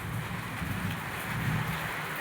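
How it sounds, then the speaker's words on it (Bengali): Rain falls steadily outside a house in front of the home, a soft, even hiss of drops with faint low rumble, moderately quiet and continuous with no voices. "দেখছি বৃষ্টি পড়ছে"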